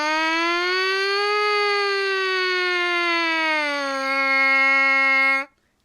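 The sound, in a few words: trumpet mouthpiece buzzing a siren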